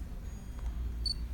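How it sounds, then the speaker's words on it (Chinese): A Lumix camera's shutter button is half-pressed while focusing at close macro range, giving a quiet room hush and then one brief, high, thin electronic beep near the end. "我只要轻按快门"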